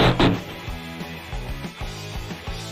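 A $1,000 Samsung UHD TV breaking on arrival: a sharp crack and shatter at the start, followed by a run of low, uneven knocks and thuds of tumbling debris, with no voices.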